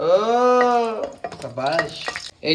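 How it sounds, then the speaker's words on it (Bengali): Pointed gourd pieces frying in hot oil with dried red chillies and nigella seeds; a bright sizzle and stirring scrapes run beneath prominent voices. "পটলগুলো কিন্তু এখন চলে যাচ্ছে ভাজতে"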